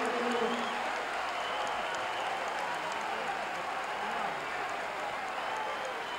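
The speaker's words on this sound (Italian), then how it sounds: "Ironico applauso del pubblico pesarese all'indirizzo di Montella" A home basketball crowd in Pesaro's arena gives ironic applause, a sustained wash of clapping and crowd noise from a large indoor audience at even loudness.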